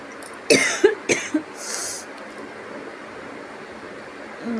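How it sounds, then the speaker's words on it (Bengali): A person coughs nearby in a quick burst of three or four sharp coughs early on, and then a quiet room settles in. "খুব কাশি হয়েছে গো।"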